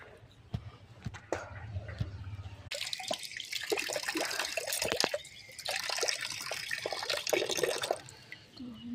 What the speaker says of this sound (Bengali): চলো দাঁতটা মাজা যায়।